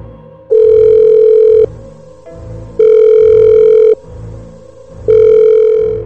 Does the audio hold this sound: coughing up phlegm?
no